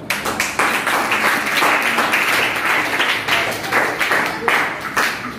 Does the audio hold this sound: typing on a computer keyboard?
no